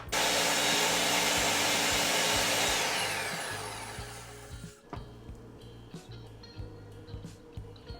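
A blender blending a strawberry daiquiri runs loudly at high speed, then winds down and stops halfway through, leaving quiet clinks and small handling noises.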